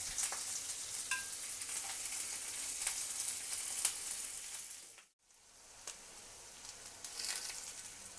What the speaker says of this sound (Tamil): இப்போ நம்ம வெங்காயம், பச்சை மிளகாய் போடுறோம். இது நல்லா ஃப்ரை பண்ணணும்.